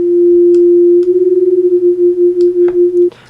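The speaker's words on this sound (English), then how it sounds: "If two frequencies exist in the same space, it will create beating." A steady pure electronic sine tone, then a second sine wave joins and the sound pulses in a wavering beat that slows and widens before cutting off abruptly.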